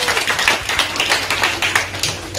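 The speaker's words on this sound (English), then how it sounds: "Everybody clap for her." Audience at a 2020 prize-giving ceremony applauding as a winner is called to the stage: steady, dense clapping from many hands at moderate distance, continuous for a few seconds.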